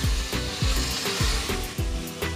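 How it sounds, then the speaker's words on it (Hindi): Mutton browning with spices in a pot, a steady close sizzle broken by rhythmic scraping and stirring strokes, about four or five evenly spaced passes with no talking. "अब मसालों के साथ अच्छी तरह हम भुनाई करेंगे।"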